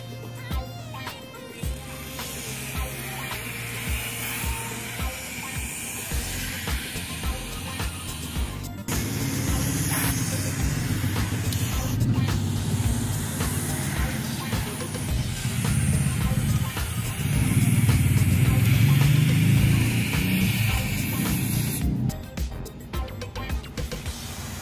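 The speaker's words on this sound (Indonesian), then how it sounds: "semprotkan silikon spray ini pada bagian rel yang dilalui oleh" Silicone spray is sprayed along the sunroof rail of a Kia Sorento, giving long steady hissing bursts from an aerosol can up close, with mechanical rattles and handling noise between them.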